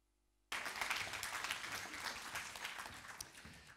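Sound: hesitant applause from the audience

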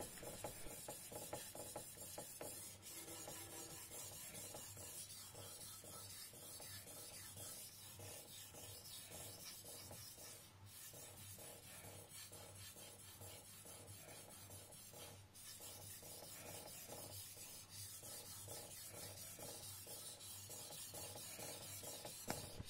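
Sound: Teruyasu Fujiwara gyuto knife sharpened on 3000 grit whetstone

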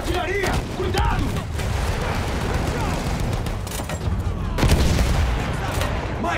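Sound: artillery fire in the video game Battlefield 1

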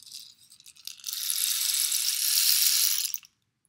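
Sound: small rain stick turned over, pebbles falling inside

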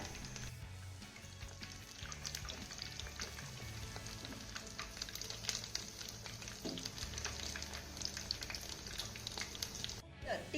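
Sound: tikki of puffed rice and gram flour frying in oil

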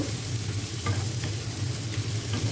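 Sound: frying pumpkin and onions with hilsa fish in a pan

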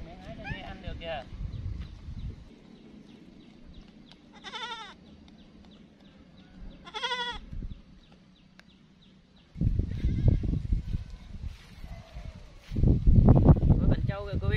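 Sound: goats bleating

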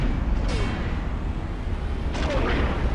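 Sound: spaceship explosion in video game Star Wars Galaxies

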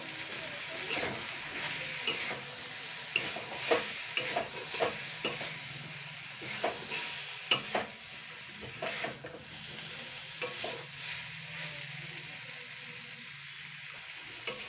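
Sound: frying gram flour with moringa leaves in a pan

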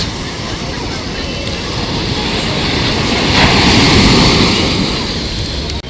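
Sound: sea waves surging on Puri beach

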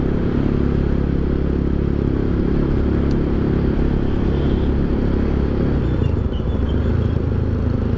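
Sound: motorcycle engine revving

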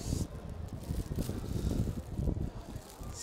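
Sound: wind blowing outdoors

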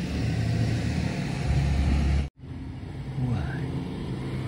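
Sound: loud school bus driving by

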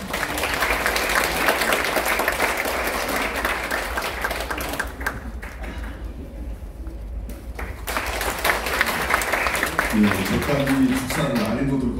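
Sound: applause

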